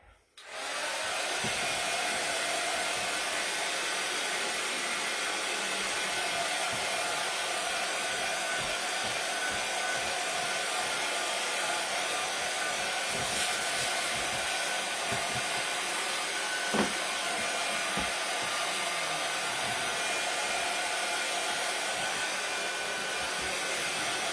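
A hair dryer blows on a Santa craft piece with a continuous, steady whooshing hum, close and alone after a brief start, holding for over twenty seconds.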